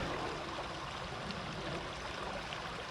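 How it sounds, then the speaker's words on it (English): A small creek running beside a hiking trail near the Russian River, a soft continuous rush of flowing water heard steadily and fairly faint throughout, with no voices. "There's a little creek down here"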